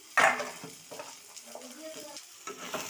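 Eggplant chunks and small potato pieces dropped into hot oil with tempering spices, giving a loud burst of sizzling frying followed by stirring clinks and scrapes of the pan, with softer sizzle continuing.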